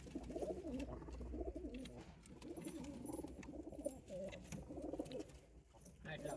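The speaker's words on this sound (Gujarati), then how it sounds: "એટલા બધા કબૂતર હે મારા ભાઈ." Pigeons in a hut cooing softly in low, rolling repeated calls, fairly close but quiet, with faint background movement and no clear talk.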